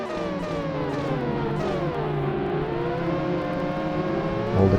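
Formula 1 race cars heavy with fuel in an F1 video game, a steady high engine whine with rising and falling pitch through the whole stretch, no talking.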